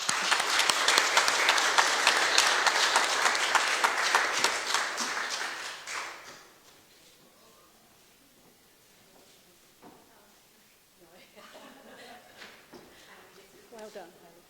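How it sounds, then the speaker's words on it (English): Audience applause at an Australia Day awards ceremony in Lucindale, a loud sustained burst of clapping for about six seconds that breaks off abruptly, followed by quieter room sounds and faint voices. "Another round of applause for Hayley, please."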